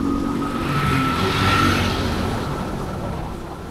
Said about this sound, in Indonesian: Kendaraan cukup padat juga ya.